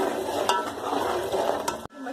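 Finely chopped green chillies go into fish masala frying in a pan, giving a steady close sizzle with stirring scrapes throughout before it abruptly quietens near the end.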